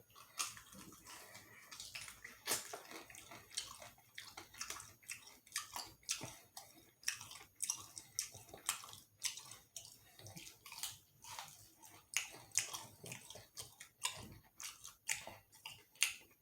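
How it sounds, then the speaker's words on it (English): Chicken gizzards are chewed close to the mic, giving a run of wet, squishy bites and mouth clicks in an irregular rhythm, fairly quiet, with no talking. "I guess I'm liking these gizzards, and I know I'm chewing them a certain way"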